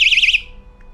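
A loud electronic alarm warbles in rapid, even pulses, then stops abruptly within half a second, leaving near silence.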